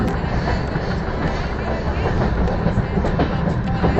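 Steady rumble of a train slowing as it enters Bongaigaon station, with faint rhythmic clatter of wheels, loud and continuous with no pauses.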